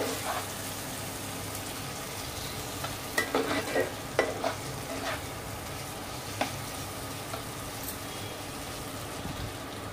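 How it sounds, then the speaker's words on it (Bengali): Masala and tomato are stirred and fried in a pan for an egg curry made with ground coconut. A quiet background sizzle is broken by scattered scraping and clinking taps from the stirring. "টমেটোটা দিয়ে আবারও খুব ভালোভাবে এটা কষিয়ে নিতে হবে।"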